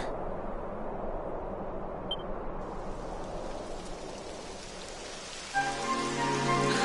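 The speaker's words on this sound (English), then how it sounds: "It would have to go and start raining, wouldn't it?" Steady rain patters on a surface in Dragon Quest XI S, a dense hiss throughout; near the end a harmonic, tonal sound swells in over the rain.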